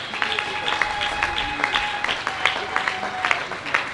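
A church congregation breaks into applause during a French-language sermon, a steady patter of many hands clapping together at moderate loudness for several seconds, with a few scattered voices underneath.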